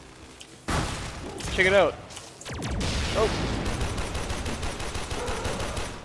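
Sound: turret gunfire in Warframe video game

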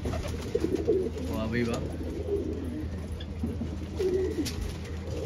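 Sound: English carrier pigeons cooing

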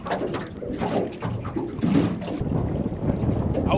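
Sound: strong wind on a lake while fishing from a boat

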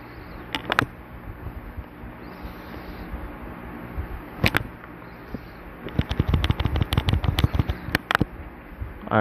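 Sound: gunshots from the video game Silent Hill

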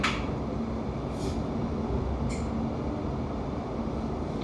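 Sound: London Overground train to Gospel Oak running

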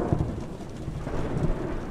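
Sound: rain and thunder in the video game The Joy of Creation

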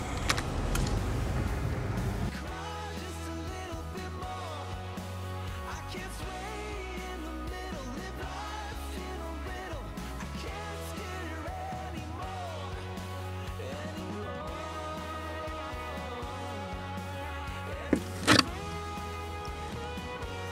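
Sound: car driving

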